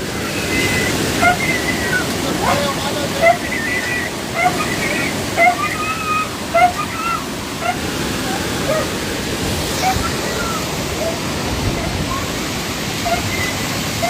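Steady broadband rush of fast-flowing floodwater pouring over Layawan Bridge in Oroquieta City, loud and continuous, with faint scattered chirps and splashes over it.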